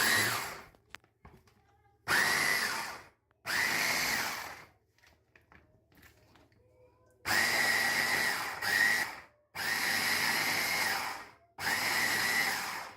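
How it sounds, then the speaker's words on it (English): A food processor spinning a mix of meat, onion, coriander and parsley, running in six loud whirring bursts of one to two seconds each, separated by quiet pauses with faint handling noises. "we put the coriander and parsley with the mix, and we do another spin, mixing all together"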